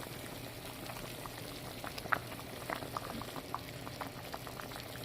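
Turkey wings boil in an uncovered pot, a steady low bubbling with scattered pops and gurgles that stay soft and close throughout, with no voices.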